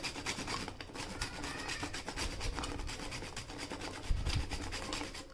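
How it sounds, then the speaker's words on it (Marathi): Whole nutmeg is grated on a small kitchen grater in quick, continuous rasping strokes, faint and close, with no talking. "आपण इथे हा जायफळ घेतलेला आहे या छोट्या किसणीमधून आपण तो किसून घेऊयात"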